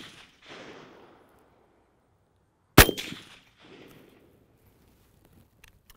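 A single sharp rifle shot cracks loudly and close while a laser sight is being zeroed, followed by a brief decaying echo amid quiet handling sounds.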